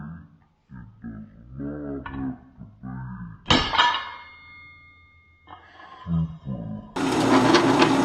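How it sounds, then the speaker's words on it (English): A hammer strikes a center punch on a steel plate before drilling, giving one sharp metallic blow with a short ring, set among quieter workshop sounds and followed by a burst of loud noise. "I do like to center punch before I drill."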